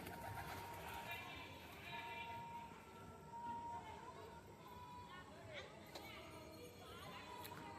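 Pigeon cooing on a rooftop, faint and somewhat distant, with low murmuring coos under background chatter and ambient outdoor noise.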